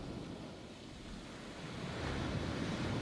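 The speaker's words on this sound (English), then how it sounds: "We got the nice beach down by the sea." Gentle sea waves wash onto a beach, a soft continuous surf hiss that swells slightly louder toward the end, mixed with light wind rumble and no voices.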